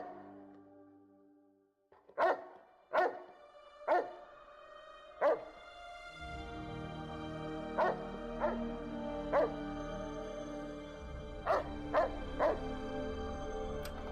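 A dog in the Fallout: New Vegas video game barks and yips about ten times in short bursts, some spaced and some in quick pairs, over a low steady game background hum.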